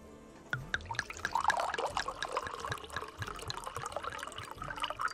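Drinks poured from a bottle at an inn, liquid gurgling and splashing into a glass with small clinks, close and intimate, running steadily after a brief quiet start.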